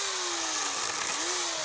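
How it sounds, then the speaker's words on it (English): A steady, droning chainsaw motor whine cutting down a tree, holding a near-constant pitch, dipping slightly and rising again, at moderate distance. "Chainsaw, and by God, he's gonna cut it down."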